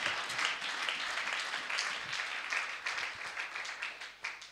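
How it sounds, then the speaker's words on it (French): A church congregation applauds and cheers for Jesus during a service, a dense, steady wash of clapping lasting throughout, with scattered shouts mixed in. "on a dit on acclame Jésus"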